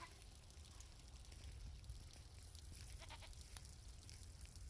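Goats in a village bleat over a steady outdoor background with a low rumble, the calls distant and fairly faint, with no talking.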